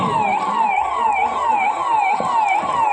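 An ambulance siren wails loudly and continuously as it arrives at a mock emergency drill at Nehru Stadium in Shivamogga, its tone sweeping up and down in a steady repeating cycle.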